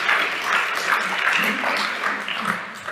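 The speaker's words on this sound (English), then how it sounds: "Let's give them all a clap, not just Mike." Conference audience at a church-related gathering clapping in a sustained round of applause, a steady crowd patter at moderate level that eases slightly toward the end.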